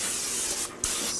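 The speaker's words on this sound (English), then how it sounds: "I am gonna spray it just a little bit because this is a raw crust." Cooking spray hisses in a steady, close burst onto a pizza stone, dips briefly, then resumes for a second short spray.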